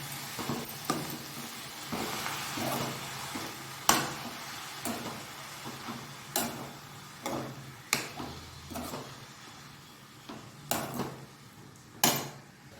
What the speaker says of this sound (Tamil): இப்போது கீரையை சேர்த்து ஒரு கிண்டு கிண்டி விடுங்க